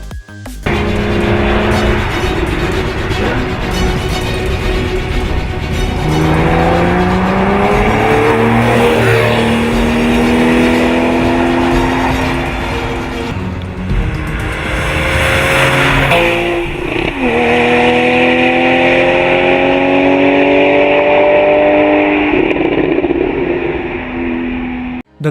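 A Porsche 911 Carrera S with a flat-six engine drives in a Need for Speed racing game, revving loud and close, with rising pitch sweeps through several gear changes and steady acceleration.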